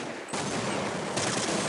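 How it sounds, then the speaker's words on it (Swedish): Gunfire erupts in Counter-Strike on the map de_nuke, a sudden burst after a brief quiet, then continuous rapid shots sounding close and dense, with no speech. "skotten går nästan igenom"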